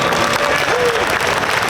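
Audience applause for actress Ingrid at a convention Q&A panel, a dense, steady wash of clapping from a crowd, loud and continuous throughout with a faint voice briefly rising above it.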